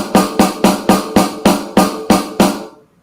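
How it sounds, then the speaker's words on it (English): Eleven evenly spaced snare drum hits from a maple drum kit, crisp and close, each ringing briefly before the next, with the last one fading out into silence. "This is how the snare sounds,"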